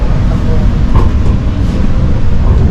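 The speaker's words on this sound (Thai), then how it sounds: "ตอนนี้รถได้เคลื่อนออกจากสถานีหัวหมากแล้วนะครับ" Inside a Bangkok MRT Yellow Line monorail car pulling away from a station, a steady low rumble and rolling hum fill the cabin, with someone speaking over it.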